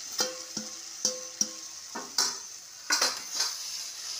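Egg dropped into a pan of frying spice masala for egg dal tadka: several sharp metallic clinks and scrapes of utensil against pan, spaced irregularly over a soft sizzle.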